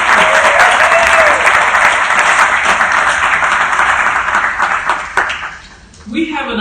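Loud sustained applause from a large crowd at a Democratic National Committee meeting, steady for several seconds before tapering off near the end.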